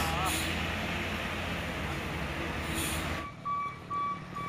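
A Kino Box truck reversing uphill on a steep hill, its heavy engine roaring loudly, then dropping away to a repeating reversing beep, with a voice talking over it.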